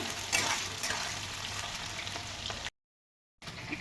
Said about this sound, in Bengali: এবার আলুটা ভালো করে একটু নাড়িয়ে চাড়িয়ে নেব